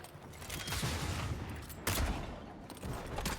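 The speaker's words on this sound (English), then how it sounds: "I want to try the gun." A gun fires in the fantasy role-playing game Avowed, with dense bursts of gunfire crackling through a steady wash of game noise and a sharp louder volley near the middle.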